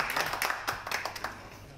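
A small film crew claps hands at the end of a shooting day, quick uneven claps close by, with no talk over them.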